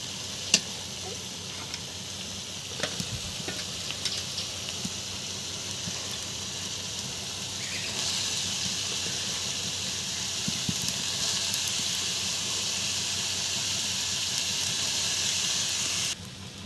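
Ground spices and dried chilli powder sizzle steadily in hot oil while being stirred for a dried fish curry, a continuous close frying hiss that grows slightly louder halfway through.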